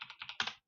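Brief burst of quick keystrokes on a computer keyboard, about seven close, soft clicks in fast succession, then silence.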